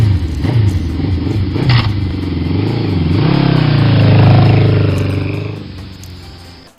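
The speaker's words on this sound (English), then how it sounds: "Green motorcycle." A motorcycle engine revs and roars up close, its pitch climbing and wavering through a sustained loud rise before easing off, heard alone with no talk.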